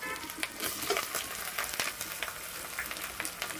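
Ground cumin paste and chopped tomato frying in a pan as a spice masala, a steady close sizzle with scraping stir strokes, no voices.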